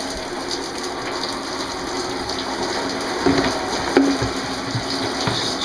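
A running shower gives a steady hiss of spraying water. It is close and continuous, with a few louder splashes and drips near the end, and no voices.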